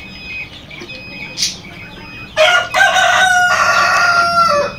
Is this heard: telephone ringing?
no